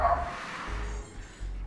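Two dogs bark outdoors, the yaps and bow-wows coming from a short distance away over a low background rumble, with brief yips mixed in.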